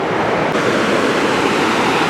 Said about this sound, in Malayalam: കനാലിലേക്ക് വെള്ളം ഒഴുകുന്നതിൻ്റെ ആ ഒരു സ്റ്റാർട്ടിംഗ് പോയിൻ്റാണ് ഈ കാണുന്നത്